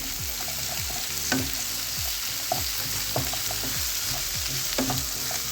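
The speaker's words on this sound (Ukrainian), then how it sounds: "Напівкільцями порізали моркву і додаємо її до цибульки та грибочків. Усе разом перемішуємо." Sliced carrots, onion and mushrooms fry together in a pan while being stirred; a steady sizzle runs underneath as the spatula scrapes through in a regular, repeating rhythm.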